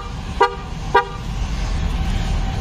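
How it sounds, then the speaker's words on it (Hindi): Two quick horn chirps sound from a Mahindra Scorpio-N as the lock button on its key is pressed, evenly spaced about half a second apart over steady outdoor background noise. "इसको बंद करने के लिए आप लॉक का बटन प्रेस करेंगे"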